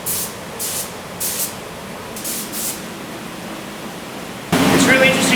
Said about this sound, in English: Once the panel has full coverage and the thinners have flashed off, the clear coat is applied.